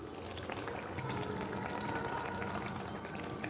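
Dhuska batter frying in hot oil in a pan and being flipped, a steady dense bubbling sizzle that runs loud and unbroken throughout, close up, with no talk over it.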